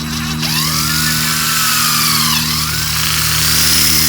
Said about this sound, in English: I'm gonna try to drill it right in between here